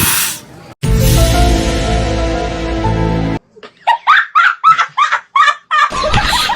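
A voices a long, loud imitation of a sheep bleating for about two and a half seconds, close to the microphone, then breaks into a run of choppy laughter.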